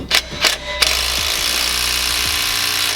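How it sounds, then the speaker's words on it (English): A stubby 3/8 inch impact wrench works on a stuck bolt on a turbo 8th generation Honda Civic: two short bursts of hammering, then one long steady run of rattling impacts, loud and close. "We're gonna ask nicely with this little stubby 3/8 impact."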